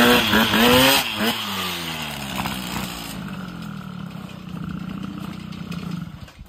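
A Solex moped engine runs at a rich idle, a close, loud buzzing two-stroke drone with a wavering pitch that sags and recovers, steady to the end with no talk.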